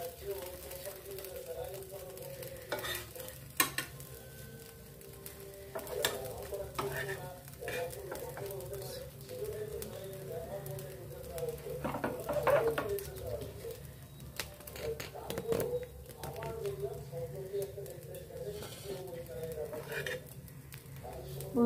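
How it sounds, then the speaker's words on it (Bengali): Flattened-rice (chira) breakfast browning in a pan gives a faint, steady sizzle with scattered scraping clicks of a spatula, fairly quiet and close. "একটা সাইড হয়ে গেলে অপর সাইডটা এইভাবে ব্রাউন করে ফ্রাই করে নিতে হবে"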